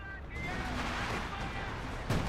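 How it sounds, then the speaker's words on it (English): Artillery barrage in a Company of Heroes battle, a continuous muffled rumble of shelling and scattered gunfire, ending in a sharper nearby blast. "now I think you're barraging that over there"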